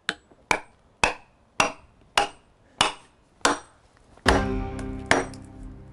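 A hammer drives wedges into a Viking-age style wooden ship plank in seven evenly spaced sharp knocks, followed by a louder ringing blow and one more hit.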